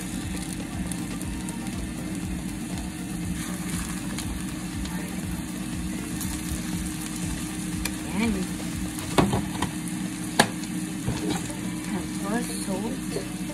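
Lion's mane mushroom fries in a pan with a steady crackling sizzle, punctuated by stirring scrapes and a few sharp knocks, heard up close.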